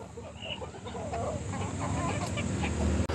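Native country chickens held in ventilated sacks cluck and murmur softly and continuously nearby, a low restless chatter of several birds with no talk.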